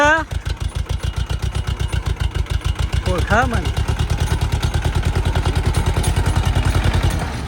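A tractor's diesel engine chugs close by in a steady, rapid rhythm, running continuously while someone speaks briefly over it.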